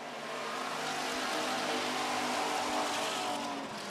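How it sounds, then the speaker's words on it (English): Race cars roaring around an oval track during a feature race: a loud, continuous engine roar that swells and fades as the pack passes, with no break. "Door to door out of turn 2, and the 24 of James Wall is the early leader."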